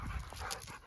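A Rottweiler pants quickly and softly nearby, a short run of breathy huffs with a faint whimper-like edge.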